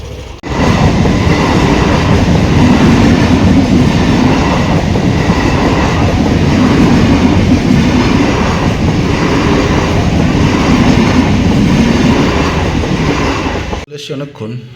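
A train rumbles loudly past a railway level crossing with the gate down, its wheels clattering steadily and close for about fourteen seconds before the noise cuts off abruptly.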